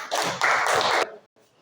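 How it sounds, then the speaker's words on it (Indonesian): A classroom of students gives a short burst of hand clapping for a group, about a second of dense applause that quickly stops, leaving near silence. "tepuk tangan buat kelompok 1 dia"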